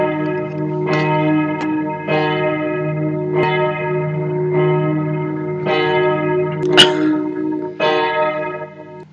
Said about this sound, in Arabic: الكنيسة بلشت تدق